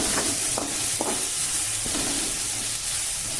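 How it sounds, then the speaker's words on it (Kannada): A ground spice mixture fries in oil for methi pulao, giving a steady close sizzle broken by a few stirring clinks, with no speech. "ಎಣ್ಣೆಯಲ್ಲಿ ಚೆನ್ನಾಗಿ ಫ್ರೈ ಆಗುತ್ತೆ"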